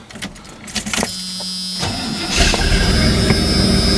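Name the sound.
1984 Chevy truck engine starting after fuel pump repair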